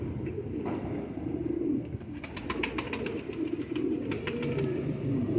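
A female Kasuri pigeon coos in soft, low repeated calls, fairly close, with brief flutters of higher chirps over a steady background murmur.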